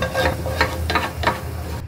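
Fried garlic and beef are scraped from a pan into a pot of oxtail soup. Several quick scraping and sizzling strokes sound close up over a short span.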